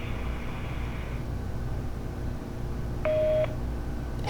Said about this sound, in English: For Emily, dial 100